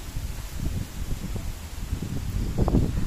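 Strong early-morning wind around a house, gusting steadily as a broadband rush with low rumbling buffets against the microphone, swelling louder near the end.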